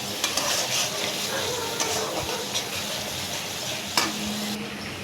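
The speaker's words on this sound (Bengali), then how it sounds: "ভালো করে মশলাটা ভেজে নেব।" A spice paste of chili, turmeric, ginger and garlic fries in a pan, a steady close sizzle with occasional stirring scrapes and clicks, heard without any talk.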